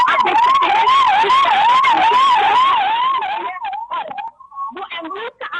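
An ambulance siren wails loudly in a steady rising and falling cycle near a building collapse scene in Sector 109, Gurugram, then fades as it passes, with voices talking around it.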